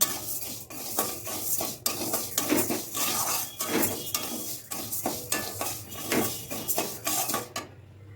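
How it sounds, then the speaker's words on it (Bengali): Mung dal dry-roasting in a wok, a steady dry scraping and rattling of lentils under a spatula, rhythmic stirring strokes with clinks against the metal, close and moderately loud, with no talk. "মুগ ডালটা আমি ভালো করে ভেজে নেব।"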